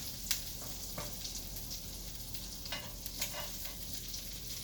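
Crab cakes fry in hot oil in a pan over medium-high heat, a quiet, steady sizzle broken by a few brief crackles and scrapes, heard close with no talking.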